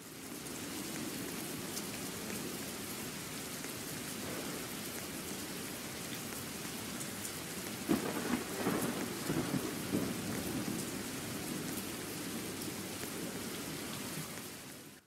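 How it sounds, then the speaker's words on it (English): Steady rain pours in a Roblox game while rolling thunder rumbles in, swelling to a louder peak partway through before fading back under the constant downpour. "Oh, there's a storm."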